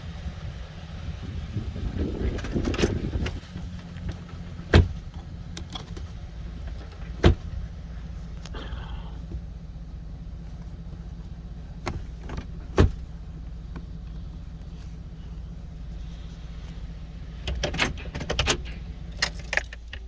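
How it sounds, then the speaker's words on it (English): Inside a pickup truck being exited, keys jangle, door locks clunk and a door handle and latch click several times in separated bursts over a low idling hum, with no talking. "Having trouble getting out of the car, the truck. And it locked me in there for a minute."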